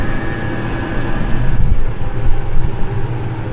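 A combine harvester cuts grass green soybeans at 9% moisture in a dusty field, giving a steady loud low machinery rumble and drone that holds throughout with no pauses.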